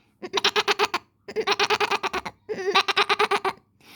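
A voice imitates a sheep, giving three runs of quick, wavering bleats separated by short pauses.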